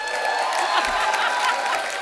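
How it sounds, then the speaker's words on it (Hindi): Studio audience at a comedy talk show bursts into steady, dense applause with some cheering for the arriving star cast, filling the room evenly throughout. "एक बार जोरदार तालियां गहराइयां की स्टार कास्ट के लिए"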